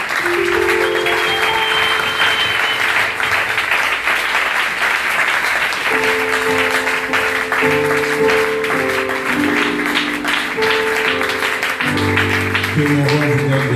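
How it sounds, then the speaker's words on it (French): Sustained loud applause from a church worship congregation fills the whole stretch, with music tones and singing voices rising underneath it. "Nous pouvons applaudir très fort pour le Seigneur."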